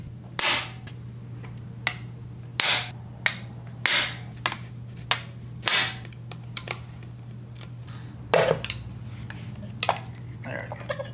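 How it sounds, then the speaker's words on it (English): An impact screwdriver working loose the screws of an engine's separator plate during a teardown to fix a rod knock: sharp, loud, separate metallic strikes in an uneven rhythm, close by, with short gaps between them. "You're gonna need to use an impact screwdriver for this."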